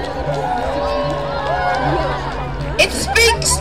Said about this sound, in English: the Holi Parade spans a number of blocks, and look at this crowd